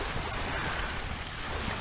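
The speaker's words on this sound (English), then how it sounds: "The water seems to be lapping in gently." Gentle ocean waves lap onto a beach in a steady, soft wash of surf, with some wind noise and no talk.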